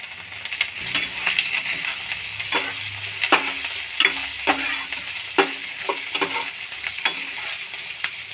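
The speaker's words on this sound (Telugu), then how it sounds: "ఇవ్వండి కరివేపాకు వేస్తున్నాను." Urad dal, cumin seeds and curry leaves frying in a pan make a constant sizzle with sharp spattering pops and scraping stirs scattered through it, close and fairly loud, with no talking.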